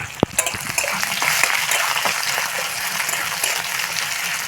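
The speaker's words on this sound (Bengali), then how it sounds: "এখানে পেঁয়াজটা আমি একটু লাল লাল করে ভেজে নেব" Sliced onion fries in a pan with a steady close sizzle, punctuated by a few sharp clinks and scrapes from stirring.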